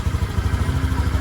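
A motorcycle named Rebecca, out on a quiet rural road, chugs with a low, steady pulsing engine rhythm at close range, idling or running gently throughout the short stretch.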